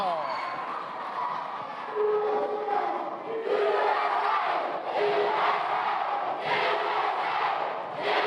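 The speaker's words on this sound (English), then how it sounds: "Listen to this crowd." A wrestling crowd at the Elliott County homecoming show cheers and chants loudly, a dense roar that swells and surges in waves throughout.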